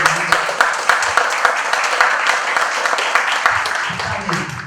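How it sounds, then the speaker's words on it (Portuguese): Audience clapping for Gabriel at a public talk in São Paulo, a steady patter of many hands at moderate volume running through the whole stretch, with no voices over it. "Uma salva de palmas do Gabriel."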